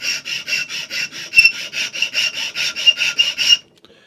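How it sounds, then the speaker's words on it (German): A half-round file rasps along a black padauk wood knife handle in steady back-and-forth strokes, roughly a dozen rhythmic, scratchy passes up close and loud, ending abruptly in near silence. "werde jetzt hier schön gerade feilen"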